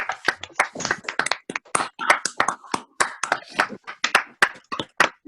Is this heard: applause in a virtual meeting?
yes